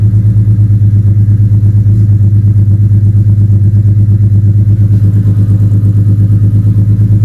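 A BMW E38 engine idles roughly just after starting, with a loud, close, uneven low thrum and a rhythmic shaking pulse that keeps going throughout with no talk over it.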